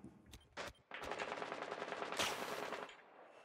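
Automatic gunfire in Rainbow Six Siege, with the IQ operator shooting at the Pulse operator several floors below, rattles in a long, fairly quiet burst after a few sharp single shots. It ends abruptly, and no one talks over it.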